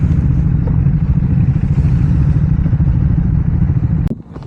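A motorcycle engine runs steadily and loudly close by, with a rough, low, continuous rumble for about four seconds before it suddenly cuts off.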